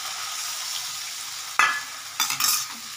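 Water poured into a pan of fried spice paste for a fish curry: a steady frying hiss, then a sudden loud sizzling burst and a second bubbling flare as more liquid hits the hot oil, with no talk.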